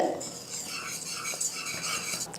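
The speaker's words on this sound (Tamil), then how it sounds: "கைவிடாமல் நம்ம கலந்து விடும்போது மாவு வந்து எப்படி கொட்டினாலும் அந்த கட்டியெல்லாம் உடஞ்சி போயிடும்" A flour batter for Diwali sweets is stirred steadily without stopping, giving a soft continuous scraping and swishing in a bowl at close range, fairly quiet and without talk.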